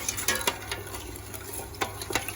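Coconut milk is stirred in a pot on a low stove flame while it comes to the boil, giving a soft continuous swish with a few sharp scraping taps of the spoon on the pot.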